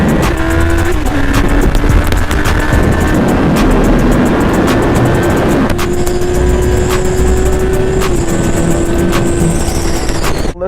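Strong wind roar buffets continuously while riding a motorcycle, a loud steady rush across the whole stretch with engine drone beneath it.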